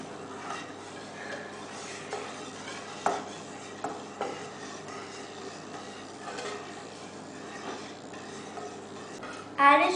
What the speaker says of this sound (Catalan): Ara afegireu la mantequilla i seguireu remenant.